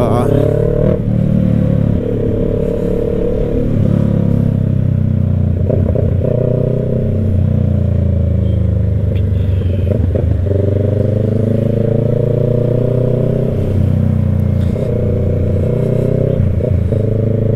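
Road traffic on a motorcycle tour near the Pililla windmills in Rizal, with motorcycle and car engines droning steadily close by, occasional revving swells and clatter, and someone talking over the noise.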